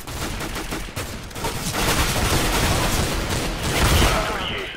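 Gunfire in the video game CS:GO, loud rapid bursts and volleys of shots layered into a dense, continuous barrage with sharp onsets, with no clear speech over it.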